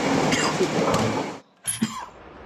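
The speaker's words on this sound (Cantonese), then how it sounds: "拍攝者不斷係咁喺度咳" A person coughs harshly a couple of times amid thick smoke inside a building during a five-alarm fire, with a brief pause between bursts against a noisy background.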